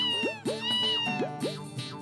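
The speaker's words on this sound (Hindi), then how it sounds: "सोनू खबरदार, जो आईंदा मेरे मोबाइल में बिल्ली की आवाज रखी तो।" A few short, bright cat meows in quick succession from a mobile phone's message tone, clear and close, with no talking.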